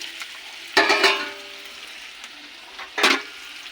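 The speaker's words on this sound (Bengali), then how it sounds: "এবার ফুল ভেজে নেব তাহলে ক্রিস্পি হবে" Cauliflower pakoras crackle in hot oil during a second deep fry for crispness, over a low, steady hiss of oil. Two louder sizzling bursts come about two seconds apart.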